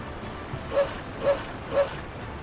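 A dog in the fantasy role-playing game Tales of Zestiria gives three evenly spaced, fairly soft barks roughly half a second apart over quiet background ambience.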